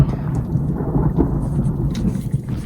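Thunder from an approaching storm rolls as a deep, continuous rumble heard from inside a car, with light rain sprinkling throughout.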